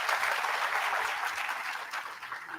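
Continuous applause fills the room from the audience at a university special lecture as a welcome speaker is introduced, dense and even, fading slightly toward the end.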